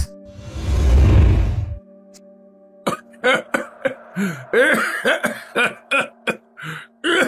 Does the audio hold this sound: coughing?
yes